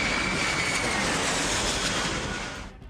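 An airplane passes very low overhead with a loud, dense roar that holds steady and then fades quickly at the end.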